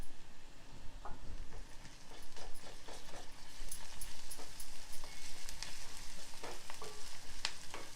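Ginger garlic paste and onions fry in a pan with a steady crackling sizzle, punctuated by light scraping stirs and small pops throughout, close and moderately quiet, with no voices.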